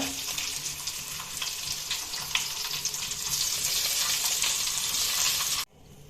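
Spices and ingredients frying in a pan, a loud, dense sizzle with hissing crackle that holds steady for several seconds before cutting off abruptly; no talking.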